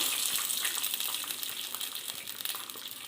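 Reserved drained water poured into a frying sambar base for a no-dal sambar, a steady close splashing gush with crackling sizzle throughout, no voices.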